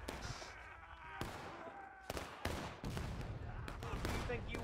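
Rifle gunfire in a War of Rights battle, a handful of sharp cracks spaced irregularly, some near and loud, others further off, over a busy background with voices talking.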